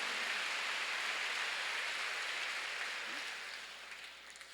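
A church congregation claps during a Korean sermon: a dense, steady wash of many hands, fairly loud and even throughout, tapering slightly near the end.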